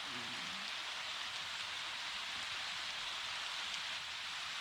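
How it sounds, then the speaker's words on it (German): Tropical rain falls steadily on the jungle in Panama, a dense, even hiss of drops with no pauses, with a faint low murmur underneath. "Jetzt nochmal einen kleinen tropischen Regen."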